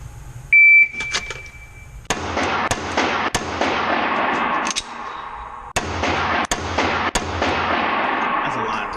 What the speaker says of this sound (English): This will be my first time shooting the pistol today.